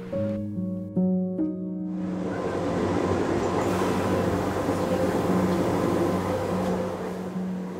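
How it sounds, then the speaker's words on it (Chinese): The open-air Gornergrat cog railway train from Zermatt, Europe's highest cog railway built in 1896, rumbles and clatters along steadily after a few tones at the start, close and continuous with no talk. "我们从采尔马特搭乘露天齿轨铁路格尔内格拉特铁路，这也是欧洲最高的齿轨铁路"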